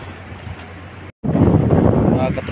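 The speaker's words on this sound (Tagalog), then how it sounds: "Mga katropa, ang lakas ng alon dito mga katropa." Strong sea waves and gusting wind buffet a small wooden outrigger boat in rough water, loud roaring wind noise broken by a brief dropout before surging back.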